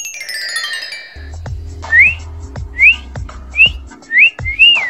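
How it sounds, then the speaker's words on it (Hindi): A person whistles by blowing during a party-game challenge, a series of five short rising whistle notes spaced about a second apart. A low rumbling hum runs underneath. "मुझसे बज रही है सीटी, मैं क्या करूं?"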